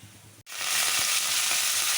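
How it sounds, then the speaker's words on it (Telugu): A spoonful of tempering spices, mustard and lentils, goes into hot oil for a vegetable curry, and a sudden loud sizzle bursts up after a short pause, then settles into a steady close hiss with faint crackles. "తాలింపు దినుసులు ఒక స్పూన్ వేసుకున్నాను"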